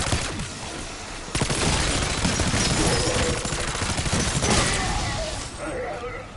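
Sustained automatic fire from an LC10 submachine gun in Black Ops 6 Zombies, loud rapid bursts that run almost unbroken from about a second in, with other game effects layered underneath.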